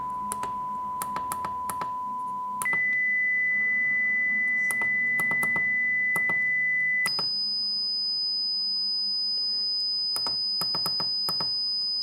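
A steady pure 1 kHz sine test tone holds alone, then jumps to two progressively higher pitches, with faint clicks and taps scattered in the background.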